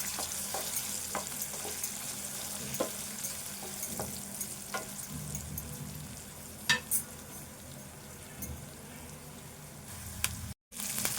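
Potatoes frying with turmeric in a pan for a potato fry, a moderate continuous sizzle broken by periodic spoon taps and scraping as they are stirred, with one brief dropout near the end.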